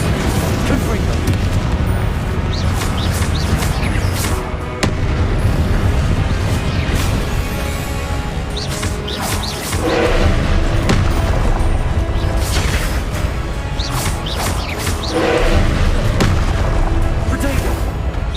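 Repeated Confringo fire-spell explosions in Hogwarts Legacy boom and crash through a hectic duel, several sharp impacts at irregular intervals amid constant combat noise, with a voice speaking at times.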